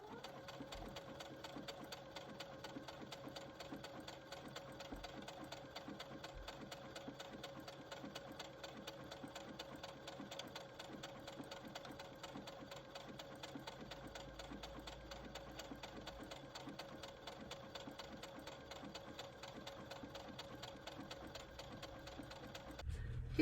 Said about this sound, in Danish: Nu starter vi vores søm.